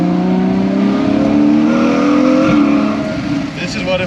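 A Ferrari 812 GTS V12 engine pulling hard on a road in Italy, a loud sustained rising engine wail heard from inside the car, with voices talking over it.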